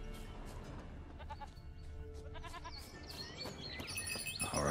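A goat bleats amid game ambience in The Witcher 3, with short wavering calls over a steady background bed that grows busier and brighter toward the end.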